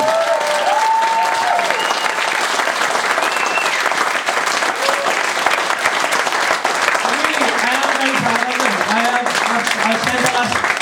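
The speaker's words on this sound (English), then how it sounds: "I think we should just give them all a fucking massive round of applause." Comedy club crowd in Liverpool gives a big, continuous round of applause, loud and steady throughout, with cheers and scattered whoops and voices rising through the clapping.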